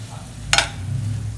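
Fried brinjal stirred with onion-tomato masala in a pan, one brief scraping stroke over a low steady sizzle, no talk.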